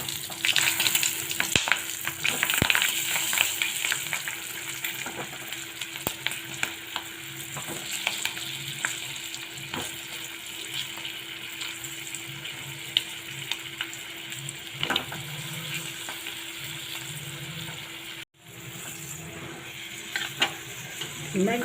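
Stuffed green chilies fry in oil seasoned with mustard seeds, cumin and asafoetida, giving a steady close sizzle broken by irregular scraping stirs and clinks from a utensil in the pan, with no one speaking.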